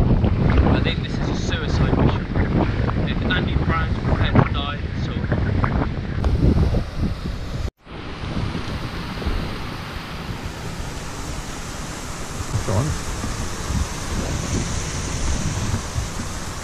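Rushing, wet water noise echoing down the Ireby Fell pothole, a steady broadband roar that is loud and continuous, briefly cut off midway and then resuming as a constant wash of flowing water.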